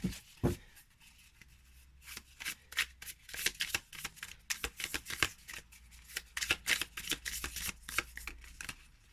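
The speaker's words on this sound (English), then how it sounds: "Maybe I'm just not good at shuffling." Playing cards being shuffled repeatedly, a close, crisp run of riffling flutters and snaps in quick bursts with brief pauses between.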